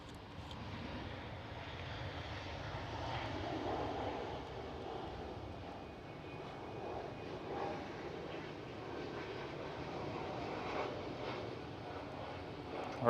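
A China Cargo Boeing 777 freighter at Schiphol makes a continuous, moderately loud jet rumble, steady across the whole stretch with slight swells, no talking heard.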